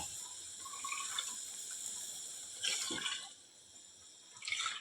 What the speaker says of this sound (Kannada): ಈಗ ಎಷ್ಟು ಬೇಕಷ್ಟು ನೀರು ಹಾಕೊಂಡು